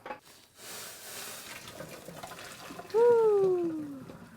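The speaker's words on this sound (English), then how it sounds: "I'm going to now drain this." Hot water from cooked glass noodles pours through a strainer into a kitchen sink, a steady close splashing rush with a faint high squeak partway through.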